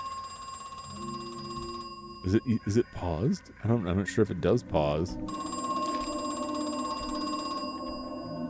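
Telephone ringing in the video game Crow Country: a steady electronic ring that holds throughout, briefly masked while a person talks over it in the middle, then ringing on clearly alone.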